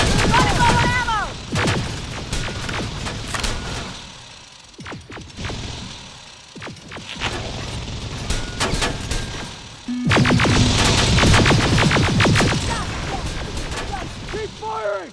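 Gunfire in the video game Terminator: Resistance Annihilation Line, with loud repeated bursts and single shots cracking in clusters across a chaotic firefight, heavy booms mixed in and voices shouting over the action.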